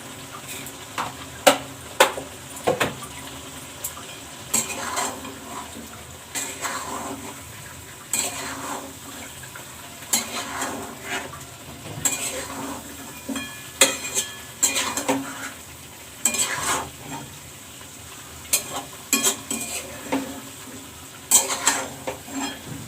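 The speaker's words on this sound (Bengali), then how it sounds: "মাংসটা ভালো করে কষিয়ে তারপর আলুগুলো দেবো" Meat is stirred and sautéed in a pan in a home kitchen, with a low sizzle beneath repeated sharp clinks and scrapes of a utensil against the metal, irregular and fairly close.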